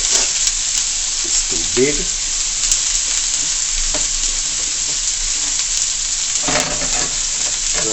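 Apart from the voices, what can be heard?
sauteing carrot in a pot for chow mein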